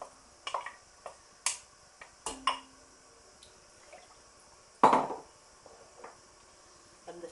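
Tomatoes drop into a pot of vegetable broth in a home kitchen, making irregular soft wet plops and splashes close by, with one heavier splash midway and quiet gaps between.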